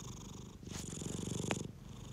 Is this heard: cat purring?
yes